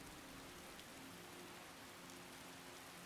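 Steady, soft rain hiss in the video game Skyrim, continuous and even with no voices, a faint low hum running beneath it.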